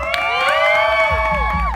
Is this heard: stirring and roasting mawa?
no